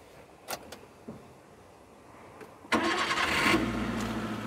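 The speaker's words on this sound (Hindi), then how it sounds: "हम करते हैं गाड़ी स्टार्ट।" A 2022 Maruti Suzuki Eeco five-seater BS6 starts up: a few faint clicks, then the starter cranks and the engine catches loudly and settles into a steady close idle.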